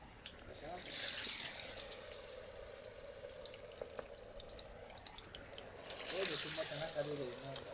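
Chicken leg pieces for garlic kabab drop into hot oil, setting off a sudden loud hiss and sizzle that fades. A second burst of frying follows near the end, with a voice heard briefly.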